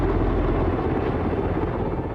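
An HH-60 Pave Hawk military helicopter flies nearby, giving a dense, loud, continuous rotor and engine roar that holds steady throughout.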